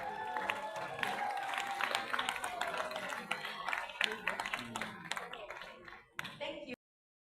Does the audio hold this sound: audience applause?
yes